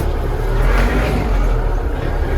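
A Forte RD504C mini tractor runs steadily while being driven, its engine giving a continuous close, loud rumble with a dense low drone and a faint rise in revs partway through.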